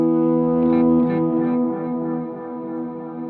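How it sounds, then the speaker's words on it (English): A sustained, shimmering frozen reverb pad from a guitar pedal holds a steady droning chord, loud at first and then easing slightly, with no new notes played. "all you're hearing right now is the reverb that was froze"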